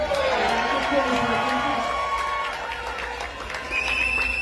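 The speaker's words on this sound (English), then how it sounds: "So can we give them a round of applause?" A crowd at a union victory rally cheers and claps for coalition partners, a busy mix of whoops, shouts and applause that swells, dips briefly, then rises again, with voices calling out through it.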